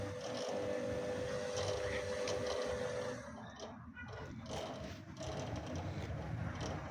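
A Daewoo washing machine pumps water out during its spin cycle, giving a steady mechanical hum and whir that drops in tone partway through, with rattling water noise underneath.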